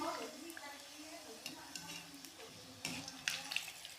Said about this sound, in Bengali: দেখুন এইটা লাল লাল করে ভেজে দিই।